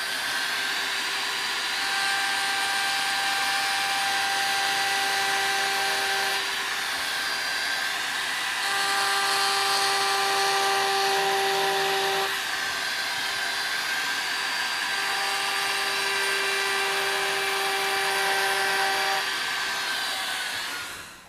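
A Foredom SR rotary tool spins a burr against wood during carving, a loud, continuous high-pitched motor whine with shifting tones as pressure and speed change, running nearly unbroken throughout.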